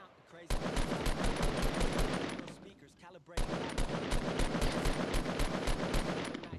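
A SCAR assault rifle in the Fortnite video game fires two long rapid bursts, loud and close, with a brief pause between them.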